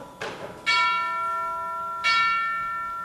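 Two deep clock bell strikes ring out with a long, shimmering sustain, the second following about a second and a half after the first, marking the half hour; a softer knock precedes the first strike.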